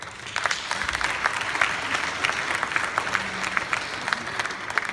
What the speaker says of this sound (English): give yourself a round of applause for this really magnificent turnout